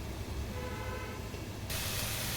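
Mustard seeds, garlic, cumin, chillies and asafoetida sputter in hot oil that was already used for frying sun-dried vadiyalu, making a steady close hiss that brightens sharply partway through.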